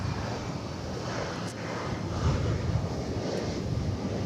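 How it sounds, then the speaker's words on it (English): An American Eagle Embraer 175 jet arrives at DFW Airport, its engines making a steady, broad roar mixed with wind noise on the microphone and no talking. "It's an American Eagle flight coming in from Corpus Christi, Texas on the Gulf Coast in Embraer 175."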